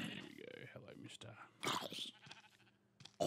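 Sheep bleating in Minecraft, in an All The Mods modpack on version 1.9.4, comes through as a few short bleats mixed with game sounds and someone talking over them.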